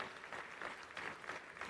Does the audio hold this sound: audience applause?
yes